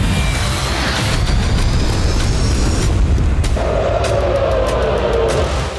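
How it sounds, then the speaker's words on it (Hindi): A Hezbollah anti-tank guided missile strikes a position held by Israeli soldiers, producing a loud, continuous, rumbling boom that fills the whole stretch with heavy low-end roar and no speech. "इसी जगह पर हिजबुल्लाह की मिसाइल का हमला हुआ"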